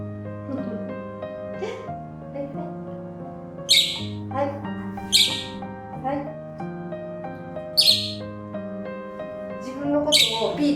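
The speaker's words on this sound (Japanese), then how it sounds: "この子は小桜インコです。" A pet lovebird lets out sharp squawks and chirps in bursts about every couple of seconds, close and loud, over a steady low hum.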